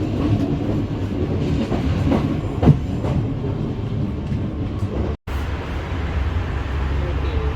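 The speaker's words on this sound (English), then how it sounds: "I'm off to get my train." A train rumbling continuously at close range, loud steady clatter and roar with a brief clank partway and a momentary cut near the end.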